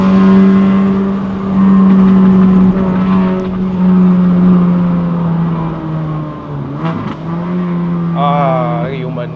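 A Honda Fit RS GK5 facelift with a six-speed manual engine drones and rises in pitch as it accelerates up the Genting mountain road, heard from inside the cabin. A voice speaks briefly near the end.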